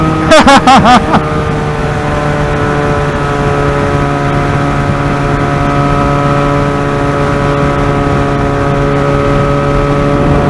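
Benelli 302R and KTM RC 390 sport motorcycles racing at high speed, a loud sustained engine drone holding a steady high pitch from the rider's position after a brief burst of wind buffeting at the start.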